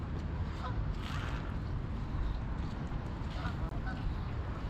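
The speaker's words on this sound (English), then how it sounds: "Look at all these gulls swarming here." Gulls swarming over a tarn in winter call in scattered honking cries over a steady outdoor rumble of wind, faint and mid-distance, with no voices.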